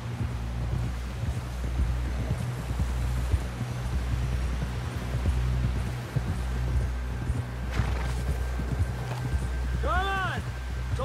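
Rhythmic horse hoofbeats clop along steadily while riding in the video game Red Dead Redemption 2, mixed with wind noise and a faint low rumble, with a brief tonal chirp near the end.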